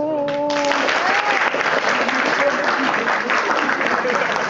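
A group claps hands during a hypnosis session, bursting into a dense, steady round of applause right after a voice speaks briefly at the start.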